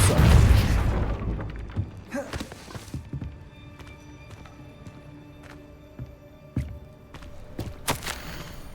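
A Depulso spell is cast in Hogwarts Legacy, a loud burst and boom at the start followed by scattered thuds, clicks and faint game ambience.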